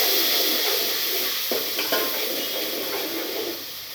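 Onion gravy sizzling and being stirred into dal in a hot pan, a steady bright hiss with a few soft scraping stirs and light clinks of the spoon against the pot, close and continuous.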